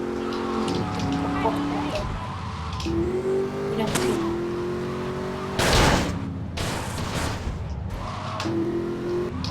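A car driving in GTA Vice City Deluxe gives a revving engine whose pitch climbs and drops through gear changes, with a loud tire-skid burst in the middle, while someone talks over it.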